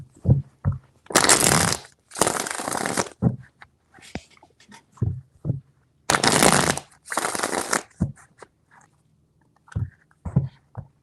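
Tarot cards are shuffled in two pairs of crisp riffling bursts, each lasting about a second, separated by soft handling noises and quiet pauses.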